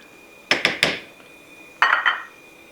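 A metal spoon clinks against a pot of Filipino macaroni soup with quail eggs, three quick knocks, a pause, then another cluster of clanks, close and clear over a faint steady hum.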